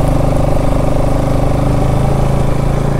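A new scooter's engine runs steadily and loud up close, a continuous mid-pitched motor drone with no talking.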